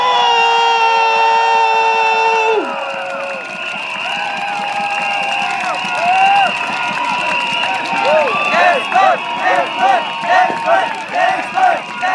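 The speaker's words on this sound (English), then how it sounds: "Let's give your loudest applause to Mayor Desmond Choo!" A political rally crowd at a junior college cheers and applauds for Mayor Desmond Choo after an announcer's call; a siren-like horn sounds first, then rhythmic clapping and cheering swell.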